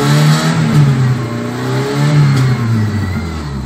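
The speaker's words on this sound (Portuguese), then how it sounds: "olha o ronco do motor agora, sem falhar, sem nada, escuta aí" A GM Vectra 2.0 16V engine runs on gasoline close up, its steady rumble swelling as it revs and settling back, smooth and continuous without sputtering.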